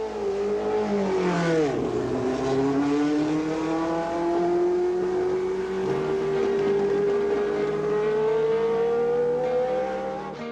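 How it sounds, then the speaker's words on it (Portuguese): A Formula 1 car creeps slowly out of the pit box, its engine holding a steady, rising high-pitched drone with a brief dip early on, loud and close and with no voices over it. "O carro sai do box, devagar."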